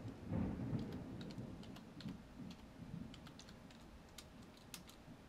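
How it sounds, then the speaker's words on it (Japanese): Low rumbling thunder rolls through a steady rain backdrop, loudest early on and fading into a long, dull grumble, with scattered sharp raindrop-like ticks above it and no talking. "雷が鳴ってきましたね。"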